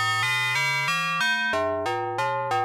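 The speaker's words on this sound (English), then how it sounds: "Ooh, there's a neat bell sound." Bright, metallic bell tones ring out from a Rings resonator synthesizer module as a sequence of about eight pitched notes, struck in a steady rhythm, each ringing straight into the next. The notes are loud and close, with no voices.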